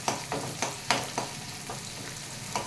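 Onions fry in a little oil over a high flame, a quiet sizzle broken by a series of rhythmic spatula scrapes and stirs about every quarter second, with no voices.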